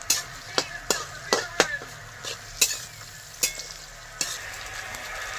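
Fresh red winter deshi tomato puree fries slowly in a pan for a spicy chicken kosha cooked in a village mud house. A soft continuous sizzle runs under repeated sharp clinks and scrapes of a spoon stirring against the pan.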